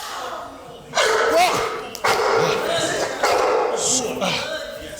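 A Doberman in a training session barks loudly and repeatedly in short bursts close by, with people talking over it.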